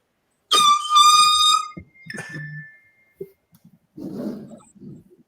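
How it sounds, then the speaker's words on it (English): A short, bright honk blares at the start, followed by scattered softer sounds and a brief murmur of voices. "I just played the honk."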